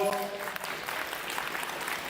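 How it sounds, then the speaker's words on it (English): A school audience at a middle school space-talk event gives Mr. Fred a brief, fairly quiet round of applause, the scattered clapping coming in just as a voice trails off. "please give him a round of applause"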